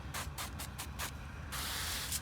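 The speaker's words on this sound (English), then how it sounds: "I have some avocado oil spray, what I used earlier. So what I'm gonna do is just give it a nice spray down." Avocado oil spray misted over a turkey before smoking on a Weber Smokey Mountain: six quick, faint hissing spritzes in fast succession, followed by a longer steady spray, heard close and quiet.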